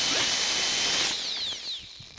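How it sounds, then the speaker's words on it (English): A cutoff wheel grinds through material outdoors on a hobby farm with a loud, high, steady whine. The pitch drops as the wheel spins down and the cut finishes. "and cut it with a cutoff wheel."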